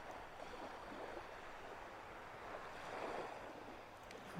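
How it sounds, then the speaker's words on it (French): Soft, steady surf rolling in the distance, a quiet continuous wash of waves that swells gently near the end. "Alors écoutez les bruits des vagues."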